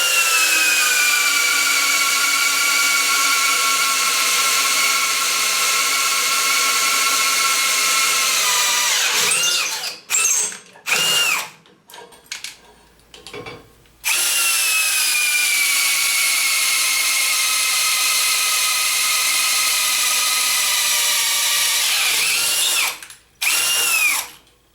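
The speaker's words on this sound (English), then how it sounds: "slip this right over the large piece of metal you want to drill a hole into, line it up" A DEWALT DCD995M2 20-volt brushless hammer drill bores into a large piece of metal with a loud, close, sustained whine. It pauses briefly with a few stuttering bursts, then resumes a long steady run before stopping.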